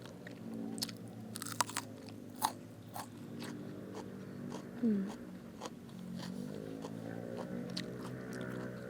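Crunchy chewing and biting of a crispy apple snail dish, a spicy koi of snail heads with aromatic herbs and assorted vegetables, heard as repeated close crunches and bites at an uneven rhythm, fairly quiet.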